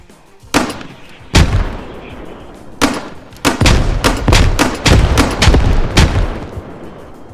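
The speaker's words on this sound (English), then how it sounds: "the biggest addition to squad that their infantry gets is the MKE MGL grenade launcher" Grenade rounds from an MKE MGL grenade launcher in the Squad video game, fired in a rapid sequence of about a dozen loud, sharp booming shots, spaced irregularly then quickening, with no talking.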